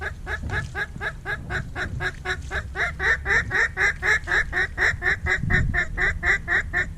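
Ducks quack in a steady, rapid series of loud, close calls during a duck hunt, the nasal calls repeating without pause for several seconds over low rumbling background noise.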